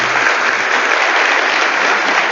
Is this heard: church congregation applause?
yes